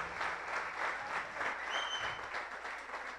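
A church congregation claps during a thanksgiving service, a steady, fairly soft wash of many hands clapping together with no talking over it.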